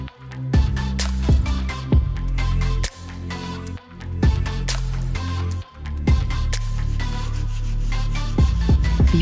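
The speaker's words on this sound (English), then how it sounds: "I sanded the complete raised stencil" Hand sanding of a raised stencil on a piece of furniture, with steady back-and-forth rasping strokes in a regular rhythm, close and loud, broken by brief pauses, with no voices.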